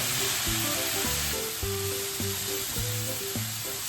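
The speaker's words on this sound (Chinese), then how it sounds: "加入胡萝卜， 加入土豆，翻炒2-3分钟" Carrots and potatoes stir-frying in a wok give a steady, close sizzle throughout, with a tonal, music-like pattern of repeating notes running underneath.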